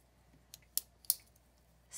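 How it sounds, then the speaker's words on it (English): Small Leatherman Micra spring-loaded scissors snip three or four times, giving crisp, quiet, close-up clicks in a hushed room. "And it's scissors on a spring."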